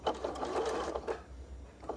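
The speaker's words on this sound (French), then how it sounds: "Le but c'est de coudre bien droit" Sewing machine stitching fabric in a slow, steady straight seam at a sewing shop, a close, continuous mechanical whir with soft rhythmic clatter that eases off near the end.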